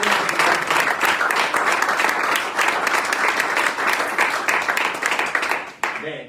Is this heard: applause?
yes